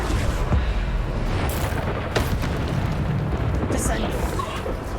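Spell blasts from the Bombarda charm in Hogwarts Legacy boom through a dense, constant wash of game combat noise, with a few sharper bursts standing out and a voice present.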